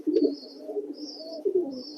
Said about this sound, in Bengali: পায়রাগুলোকে আমার যে ওই লফটটা ছিল ওই লফটে পুরো ছেড়ে দিয়েছি